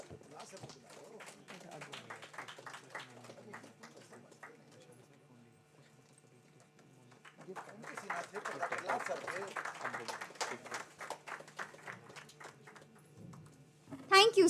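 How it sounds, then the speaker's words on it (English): Audience at an academic valedictory function for a robotics, IoT and automation workshop claps during a gift presentation, with light clapping that swells into a denser burst midway before easing off, fairly distant in a reverberant hall. "Please give sir a big round of applause."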